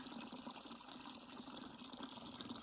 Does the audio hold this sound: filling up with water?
yes